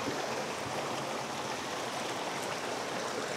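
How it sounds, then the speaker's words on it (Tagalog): Steady rushing water of a stream near a waterfall at a campsite, a dense continuous hiss filling the whole stretch, close and even, with no voices. "Yung nagaslak ng tubig."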